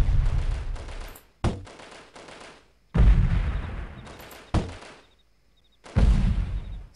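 Grenades fired into tents in the video game Delta Force: four heavy booming blasts spaced roughly one and a half seconds apart, each trailing off into a rumbling decay.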